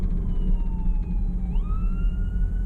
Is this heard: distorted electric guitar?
no